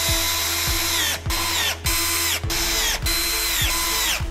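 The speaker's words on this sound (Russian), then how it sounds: "Мастер на видео использует шуруповерт." A cordless power screwdriver driving screws into a white double bed frame with metal corner brackets, motor whirring loud and close in repeated runs of about half a second, each pausing briefly before the next.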